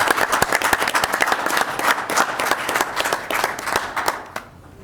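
A room at a city council meeting breaks into applause, many distinct hand claps in a lively, irregular patter that fades out near the end.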